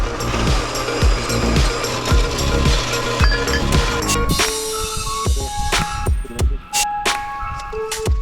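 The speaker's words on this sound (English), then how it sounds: "Gonna go ahead and get this top windshield bar cut off with the bandsaw here." A bandsaw cuts a 53-inch steel windshield bar tube for a custom roll cage on a CJ-7 Jeep, a loud steady grinding whine with rhythmic knocks through the first half, then scattered clanks and ticks as the cut ends.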